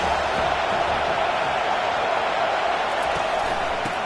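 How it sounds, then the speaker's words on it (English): Steady, dense crowd roar from an American football video game, a constant wash of noise with no breaks, fairly loud and even throughout. "This crowd bringing the energy and noise early."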